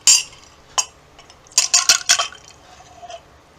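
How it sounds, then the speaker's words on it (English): Ice cubes poured into a cup while making iced tea, giving a few sharp clinks near the start and then a quick cluster of bright rattling clatters, close and fairly loud with no talk. "So I'm going to pour the ice into the cup"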